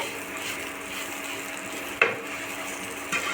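Rava (semolina) with garam masala roasts and is stirred in a pan for rava bath, a soft continuous dry sizzle with a sharp scrape of the spoon against the pan partway through and a lighter knock near the end.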